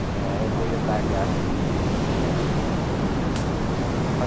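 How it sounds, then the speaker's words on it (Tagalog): Strong sea waves roll onto a beach as a storm approaches, producing a continuous loud roar of surf mixed with wind buffeting the microphone, without breaks. "So, makikita nyo po malakas yung alon."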